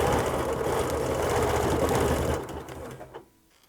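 Sewing machine quilting clamshell quarter circles on fabric, a loud rapid mechanical whirring stitch that runs steadily, then slows and stops, leaving near silence.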